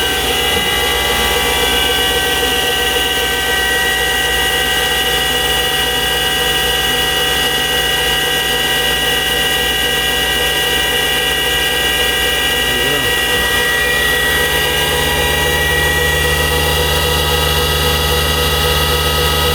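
CNC machine spindle turning at 4,500 RPM while carving a memorial plaque, a steady loud mechanical whine with layered tonal hum lasting throughout, a brief shift near the end.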